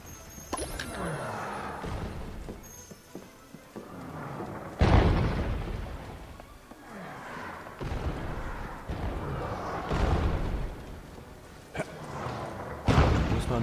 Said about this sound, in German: Boah, hier fliegen überall die Kanonen